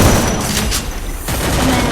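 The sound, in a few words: gunfire in the video game Free Fire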